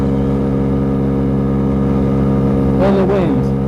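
A Df50sst motorcycle engine holds a steady high-revving drone at speed, loud and continuous with wind rush, while a voice briefly talks over it near the end.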